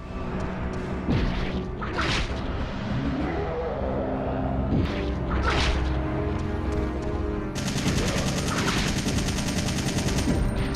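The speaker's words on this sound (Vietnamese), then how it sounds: "Sau khi xả đạn liên tục, Carlos tạm thời ngăn chặn được nó" Sustained gunfire from Resident Evil 3 runs throughout, a dense stream of shots with heavy impacts and crashes. It turns into a rapid automatic rattle over the final few seconds, loud and close.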